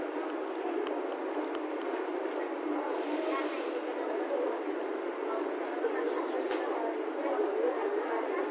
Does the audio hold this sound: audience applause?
no